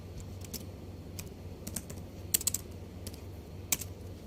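Keystrokes on a computer keyboard as a Linux cat command is entered, a few scattered clicks in short bursts, close and fairly quiet over a low steady hum, with no talking.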